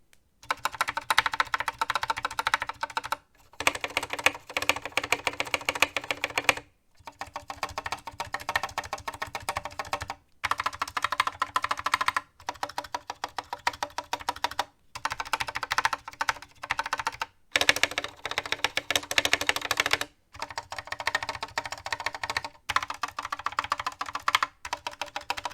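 Mechanical keyboard with re-lubed stabilisers typed on steadily, dense close clacking keystrokes in bursts separated by brief pauses, no voices.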